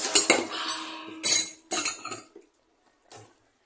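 A spoon mixing a carrot and beetroot batter for appe in a bowl, scraping and clinking against the sides in several short bursts, close and loud, then trailing off to near silence with one last faint tap.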